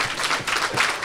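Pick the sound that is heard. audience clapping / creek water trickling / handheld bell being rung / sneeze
audience clapping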